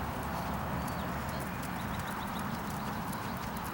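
Horse cantering in a dressage arena, hooves clip-clopping in a steady rhythm at moderate distance over a constant background hiss, with no talk heard.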